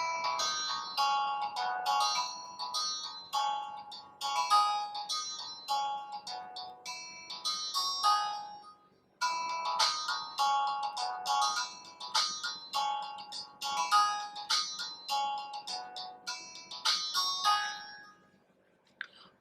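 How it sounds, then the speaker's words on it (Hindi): A ringtone plays through the speaker of an Infinix Hot S3 phone, a bright electronic melody with repeated chiming phrases, fairly loud and clear, running alone with a brief pause midway before the tune resumes. "चलिए अब हम एक रिंगटोन को प्ले कर देते हैं।"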